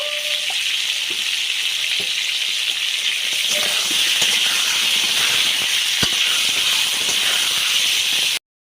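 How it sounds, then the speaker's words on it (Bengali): Pointed gourd (potol) pieces fry with salt in a pan, giving a loud, continuous close hiss and sizzle with occasional light clinks. "পটলগুলোকে আমি শুধু লবণ দিয়ে ভেজে নেব"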